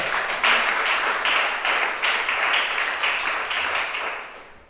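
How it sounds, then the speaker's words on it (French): A church congregation bursts into sustained applause during a worship service, a dense wash of many hands clapping with a steady pulse, loud and fairly close before tapering off at the end. "Acclamez ça."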